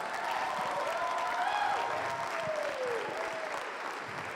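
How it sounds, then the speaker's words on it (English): Sustained audience applause fills the space at a youth fair market hog showmanship event, steady and fairly loud throughout, with a faint tonal sweep from the venue sound running through the middle. "Let's give them a big round of applause."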